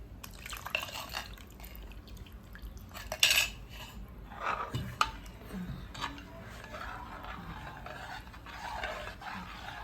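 A pan of mango payasam made with coconut milk being stirred, with soft scraping, clinks of utensil against metal and occasional drips, fairly quiet and irregular throughout.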